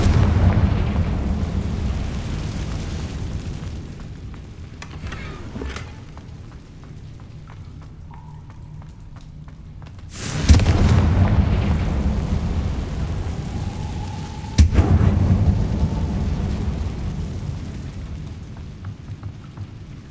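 A Confringo fire-blast spell goes off in Hogwarts Legacy on PC, two sharp explosive impacts spaced a few seconds apart, each followed by a loud rumbling roar over a constant low, stormy background.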